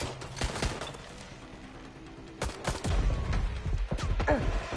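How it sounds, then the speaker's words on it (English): Gunfire in the video game Watch Dogs Legion: scattered sharp shots and short bursts, moderately loud, clustered at the start and again in the second half, with a few distant-sounding cracks between them. "Shots fired! Shots fired! I'm taking fire!"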